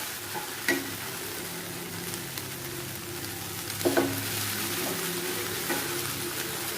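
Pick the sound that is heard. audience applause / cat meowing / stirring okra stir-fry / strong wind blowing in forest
stirring okra stir-fry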